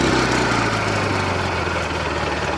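A Craftsman GT6000 lawn tractor engine idles steadily nearby, a low, even rumble with a faint rattle, running alone without voices.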